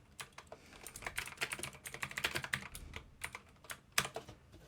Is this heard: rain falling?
no